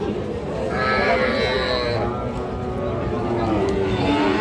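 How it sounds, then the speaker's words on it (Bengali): A bull calf at a busy cattle market in Ambari gives a drawn-out moo early on, heard close over steady crowd noise while a voice speaks nearby. "আমরা এই যে এখানে একটা ষাঁড় বাচ্চা দেখতেছি"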